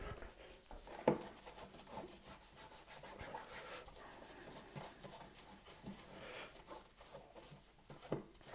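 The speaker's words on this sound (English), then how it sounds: "So let's go ahead here and wipe this down." Wipes rubbed over an old 1960s Gibson GA-5 Skylark guitar amplifier during restoration, producing steady close scrubbing and rubbing strokes with a sharper knock early on, quiet and without talk.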